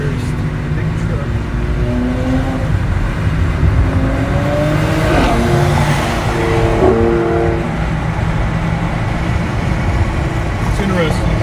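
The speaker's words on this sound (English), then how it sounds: "It's interesting to hear all these cars drive by." Cars cruise past one after another on Woodward Avenue during a Saturday drive, engines rising and fading as they pass, heard from inside a Kia Soul with people talking over the traffic.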